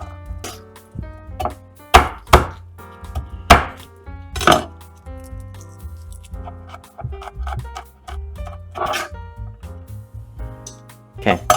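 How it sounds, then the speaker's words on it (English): A kitchen knife thinly slicing a large amount of garlic on a cutting board, with sharp, irregular chopping taps coming in quick bursts and pauses, close and loud, with no talking. "I'm gonna need a lot of garlic today, so get a bunch of it thinly sliced."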